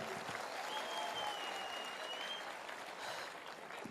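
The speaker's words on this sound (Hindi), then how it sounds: "मैं चाहूंगा एक जोरदार तालियां जरूर हो जाए गुरुदेव के लिए" Continuous applause from an audience at a speech event, a fairly distant and soft wash of clapping that holds steady and fades slightly near the end.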